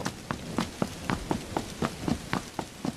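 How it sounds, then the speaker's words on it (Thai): Rain in the video game Sakura School Simulator, a steady wet hiss punctuated by a regular run of splashy footsteps, close and moderately loud. "บีบีตัดสินใจ วิ่งฝ่าสายฝนกลับบ้าน"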